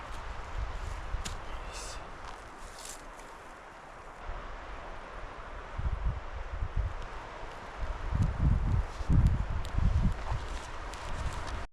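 Wind gusts buffet the microphone in low rumbling bursts at a lakeside campsite at Tabatskuri Lake, stronger toward the end, with faint rustling in between.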